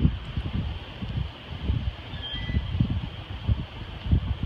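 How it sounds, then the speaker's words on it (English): Wind gusts through trees in Tampa during Hurricane Matthew, a steady low rumble that swells and fades in waves with some microphone buffeting and no speech. "Wind picked up a little bit. You can see the trees blowing a little bit more."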